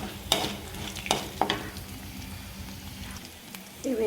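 Spices and dried red chillies crackle and sizzle in hot oil, with a few sharp stirring scrapes and a steady frying hiss throughout.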